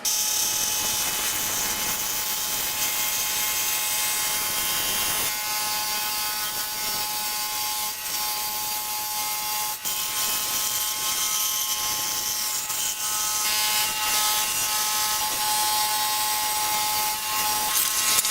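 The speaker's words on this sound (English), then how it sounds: "I'm going to cut mine out on a scroll saw" Steady high-pitched buzzing of a scroll saw running continuously, a rapid reciprocating whine with slight changes as it cuts out a wooden cutting board piece.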